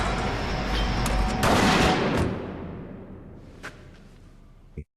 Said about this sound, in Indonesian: Richie dengan sigap menembak mati Leroy.